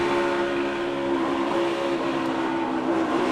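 A NASCAR Ford's engine at the Daytona 500 drones at a steady high pitch, then eases slightly as the driver comes off the throttle, with constant road and wind roar.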